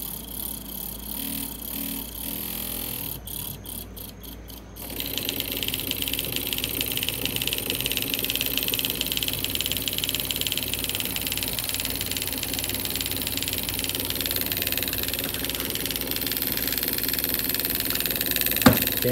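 A homemade DC oscillator with a spinning wheel runs steadily, giving a continuous mechanical hum and rattle that stays loud after a short sputtering start, with a brief click near the end.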